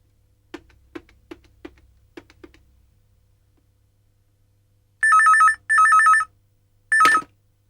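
An outgoing phone call: a few quick keypad taps, then a pause, then three loud electronic ringback bursts, the last one short and cut off.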